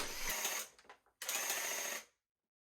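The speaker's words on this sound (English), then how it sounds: "I'm using a Graco paint sprayer and it's actually really amazing" Two short bursts of hissing spray from a Graco airless paint sprayer, each lasting under a second, with a brief pause between and silence after.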